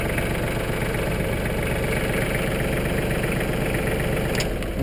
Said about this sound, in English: And shut the tractor off.